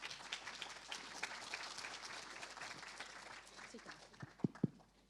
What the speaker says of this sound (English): Big round of applause for Misaki Ito